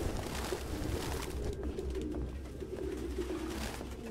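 Pigeons coo softly in the video game Detroit: Become Human, a low continuous murmur of overlapping calls set against a steady ambient background, with no speech.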